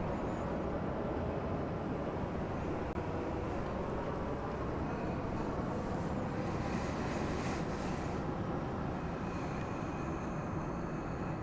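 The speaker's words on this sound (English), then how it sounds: "I think it was a Cessna 172R" A Cessna 172R Skyhawk at Dallas Love Field at night, heard as a steady, broad engine roar that continues without a break, with a faint higher whine toward the end.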